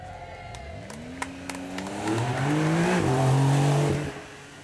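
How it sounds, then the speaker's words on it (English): A Porsche 911 does a burnout at a supercar event, its engine revving upward in a rising whine that holds at high revs and then drops away, with tyre squeal mixed in and crowd noise in the background. "To see it spin on 4 wheels gives you an idea of just how it's done."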